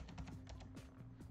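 Fingers type on a computer keyboard in a fast, steady patter of clicky keystrokes, close and moderately loud over a constant low electrical hum.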